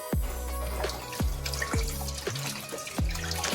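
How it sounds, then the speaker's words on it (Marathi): Sweet potatoes being washed under a running tap, with steady splashing water and repeated thudding knocks as the tubers are turned and rubbed in a sink; no talking. "तर हे मी आता स्वच्छ धुवून घेते"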